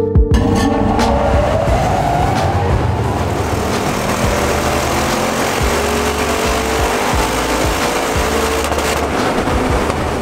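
A 2015 Audi RS7, a non-performance-pack car with a standard tune, revs hard on a dyno. The engine roar stays loud and steady for about ten seconds and rises in pitch throughout.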